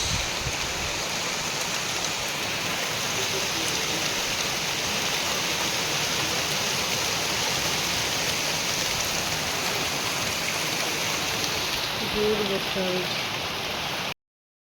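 Steady rain hisses continuously throughout, a dense even wash of falling water, with faint brief voices near the end.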